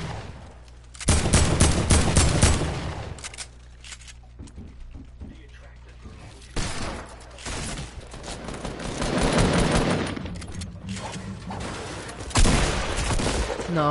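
Gunfire in an online shooter game, several loud bursts of rapid shots separated by quieter gaps, with people talking over the action.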